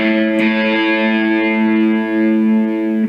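A guitar rings out with a single strummed chord after being tuned, sustaining evenly with a bright, effected tone, heard alone and close before cutting off.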